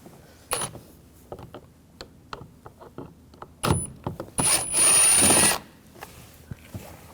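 Screws being removed with a T20 socket from the door panel of a 2007-2013 BMW 328i: scattered small clicks and taps, then a couple of short ratcheting bursts and one longer whirring run of a driver near the end.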